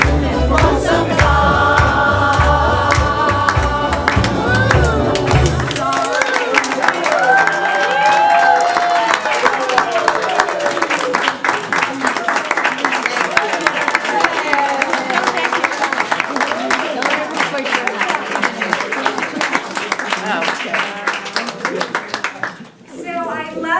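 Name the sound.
audience applause for Guys and Dolls cast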